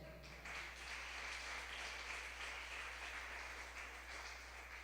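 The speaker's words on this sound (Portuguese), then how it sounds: "Dê um aplauso a Jesus." A church congregation applauds together during a service, a dense, even wash of clapping that stays faint and distant over a low steady hum, with no one speaking.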